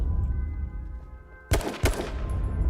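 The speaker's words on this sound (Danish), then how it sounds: "vi bliver skudt på 3 sider." Gunfire in the battle royale game H1Z1: two sharp shots crack in quick succession after a stretch of low background hum, fairly close and loud.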